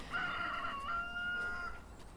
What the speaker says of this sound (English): Loads of little hens.